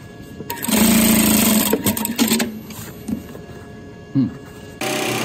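An industrial sewing machine runs for about a second after its shuttle hook timing is adjusted, giving a loud, steady mechanical whir. Clicks and handling noises follow, then a short burst of running near the end.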